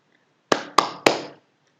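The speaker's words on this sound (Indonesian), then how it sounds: "Nah, bagaimana bunyi tepuk tangan?" Three sharp hand claps in quick succession, close and crisp, each with a short room decay, alone in otherwise quiet surroundings.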